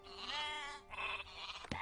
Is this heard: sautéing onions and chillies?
no